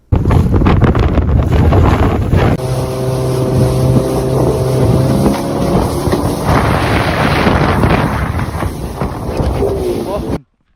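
A speeding motorboat roars loudly and steadily close by, its engine note shifting in pitch, with heavy wind buffeting the microphone throughout and faint talk mixed in.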